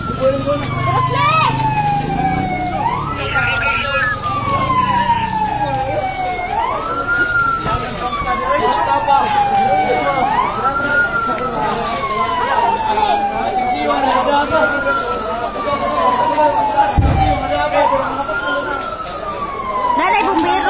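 A fire truck siren wails in repeated rising-and-falling sweeps at a residential fire in Lapu-Lapu City, Cebu. It is loud and continuous, with crowd noise and people talking underneath.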